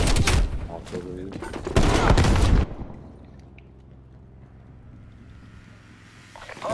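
Artillery and gunfire in Call of Duty: Black Ops Cold War, loud bursts of rapid shots and blasts for a few seconds, then a sudden drop to a low distant rumble before noise rises again at the end.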